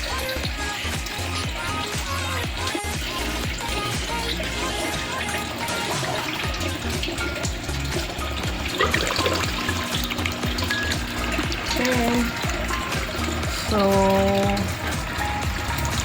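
Running water pours and splashes steadily into an aquarium sump, with a voice speaking briefly over it and some clatter in the background.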